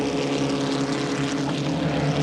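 Formula Vee race cars, among them Frank Kleinig's Mako, climbing the hill past the start-finish line at Amaroo Park in 1986, a loud sustained engine drone with steady tonal harmonics.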